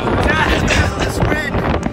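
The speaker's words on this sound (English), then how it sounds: "That wind, I know." Strong wind gusts outdoors buffet the microphone, producing a loud, continuous roar that rises and falls throughout.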